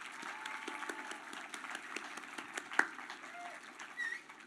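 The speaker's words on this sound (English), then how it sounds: "with a hand clap of praise as well?" Students at the Ft. Pierce Westwood Academy 2021 graduation ceremony applaud continuously in a large hall, a soft, dense patter of many hands heard from a moderate distance.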